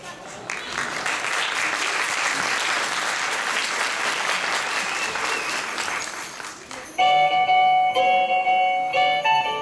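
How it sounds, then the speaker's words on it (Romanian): Audience applause at a children's Christmas school show for a second-grade class, a dense sustained clapping that cuts off abruptly partway, followed by steady tonal music. "vă rugăm să aplaudați"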